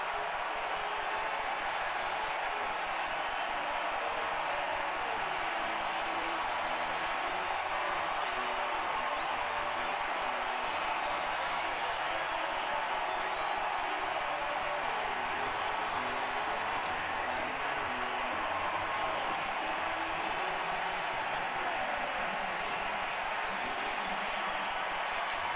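A baseball stadium crowd at the 2015 NLCS Game 3, Mets at Cubs, roars after a game-tying hit: a dense, sustained wash of cheering that holds steady and distant throughout.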